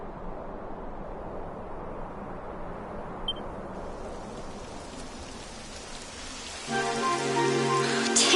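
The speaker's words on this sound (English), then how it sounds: "It would have to go and start raining" Steady rain pours down in Dragon Quest XI on PS4, a dense even hiss throughout that grows louder near the end as a brighter game sound rises over it.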